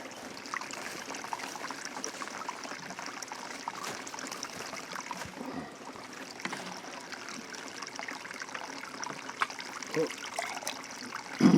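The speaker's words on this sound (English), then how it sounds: "I'm just going to fill that up with water" Water trickles and splashes steadily into a plant pot for several seconds, a soft continuous pour at close range with faint background noise.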